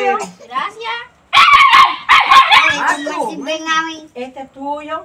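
Several sharp dog barks and yips in quick bursts, close by, mixed with whimpering tones.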